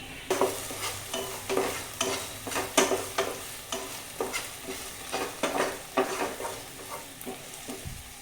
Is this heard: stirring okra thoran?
yes